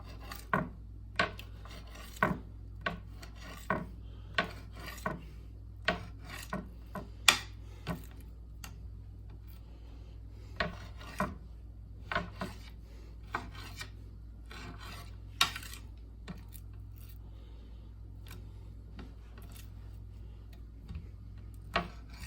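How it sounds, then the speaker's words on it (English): Knife strokes tapping against a chopping board while cutting food into thin strips, at a steady rhythm, a sharp click on each cut, with a short pause midway; quiet and close. "So I just want to cut this into thin strips."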